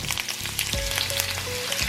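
Onions sizzle and fry steadily in a hot pan for a chicken stew, a close, continuous crackle with light stirring clatter and no talking.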